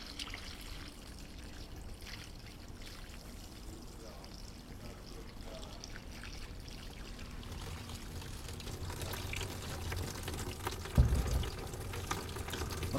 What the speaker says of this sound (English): let's see what happens when I run some water past them.